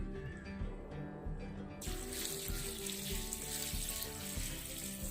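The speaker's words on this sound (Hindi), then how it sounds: "और इसके बाद इसमें जाएगा पानी।" Water runs into a cooking pot holding salt, tomato and green chillies for a chana gosht curry, a steady splashing gush that starts abruptly partway through and continues to the end.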